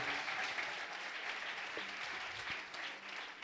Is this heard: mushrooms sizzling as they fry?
no